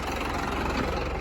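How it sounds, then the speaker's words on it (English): A tractor engine idles nearby on a calm morning in a cattle pasture, a steady low droning rumble with no breaks. "Now I'm gonna turn off this tractor"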